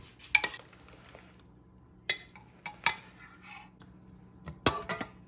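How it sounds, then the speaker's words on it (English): A spoon scoops cooked beef out of a stew pot after hours of cooking, giving a handful of sharp metallic clinks and scrapes at irregular intervals against a quiet background. "So my meat's been cooking a few hours now, and I'm gonna scoop it out"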